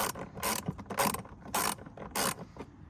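A ratchet clicks in short, rhythmic bursts while tightening T20 bolts on the airbox of a Seat Ibiza, five or so quick crisp runs close up in a quiet space.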